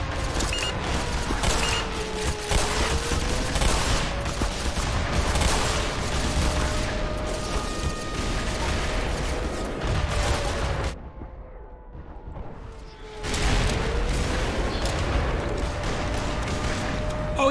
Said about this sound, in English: There's quite a lot of explosions going off